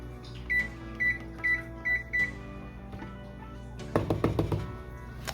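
A kitchen oven is set to 375 degrees: five short, evenly spaced electronic beeps from the control panel, then a few soft clicks and a cluster of knocking taps, all nearby and fairly quiet, with no speech.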